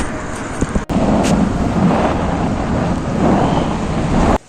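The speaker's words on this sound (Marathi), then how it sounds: "आज तर पावसाने खूप धुमाकूळ लावलेला आहे रात्रपासून पडतोय" Loud, dense roar of heavy monsoon rain pouring steadily on a waterlogged IT park area in Hinjewadi, Pune, with rumbling low noise throughout and a brief dropout near the start.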